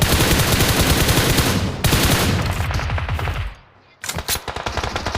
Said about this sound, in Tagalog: ang daming bumabaril.